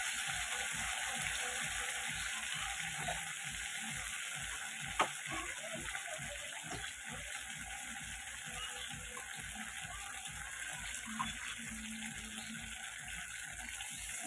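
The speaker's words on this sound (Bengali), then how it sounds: "দিয়ে মশলাটাকে বেশ টাইম ধরে কষাবো।" Tomato and cashew spice paste sautéed in a pan, a steady soft sizzle under a repetitive rhythmic scraping of the stirring utensil that runs throughout, close up and with no talking.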